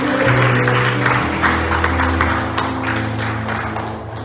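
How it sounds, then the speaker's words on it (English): A church congregation clapping hands in praise during a Sunday morning service, a rush of many hands over lingering organ or keyboard chords, gradually fading. "Let's give the Lord one more hand clap offering of praise this morning"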